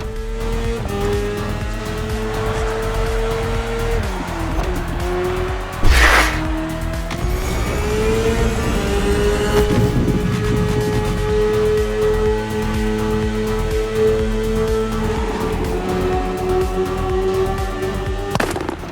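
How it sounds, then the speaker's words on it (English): A BMW S1000RR superbike ridden in the racing game The Crew Motorfest, its engine droning steadily with rising and falling pitch through gear changes, plus a sharp burst around the middle, loud and continuous with no talk. "The one you're riding is the S1000RR. It's what we call a superbike."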